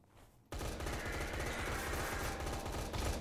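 In Roblox SCP Roleplay, rapid automatic gunfire erupts after a brief quiet moment and keeps rattling loud and continuous, like sustained machine-gun bursts.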